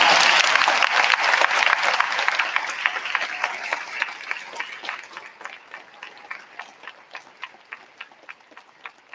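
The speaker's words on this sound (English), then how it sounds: "could you please stand up one more time for a big round of applause?" A crowd at a school Veterans Day celebration applauds servicemen and women, a dense wash of clapping that starts loud and gradually thins and fades into a few scattered, distinct claps by the end.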